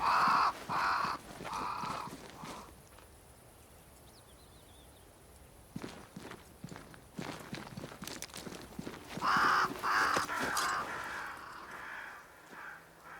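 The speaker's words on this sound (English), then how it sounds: "crows. They flock to that great tree up there." Crows caw in the Banishers: Ghosts of New Eden video game, a few harsh calls at the start and another cluster later, over soft footsteps and ambience.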